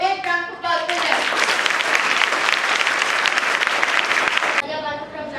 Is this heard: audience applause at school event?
yes